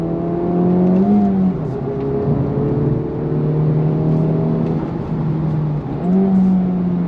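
2023 Honda FL5 Civic Type R accelerating hard in third gear, heard from inside: loud, steady engine drone with rising pitch and brief dips at shifts, no talk over it.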